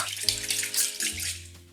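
Cream soup pours over chicken drumsticks in a brief, close liquid glug and splash that tapers off toward the end.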